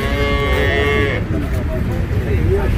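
A bull moos loudly and close by at a cattle fair, a long low bellow with rich harmonics, followed by quieter lowing and farmyard rustle.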